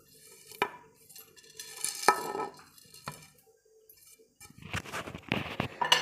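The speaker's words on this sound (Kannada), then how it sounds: "ಈಗ ಇದನ್ನೆಲ್ಲ ಒರಳಲ್ಲಿ ಹಾಕಿ ಕುಟ್ಟಿ ತೊಗೊಳ್ತೀನಿ" Garlic, ginger and green chillies are pounded in a small stone mortar. A few separate thuds are followed by a quicker, denser run of knocking and scraping strikes, close and moderately loud.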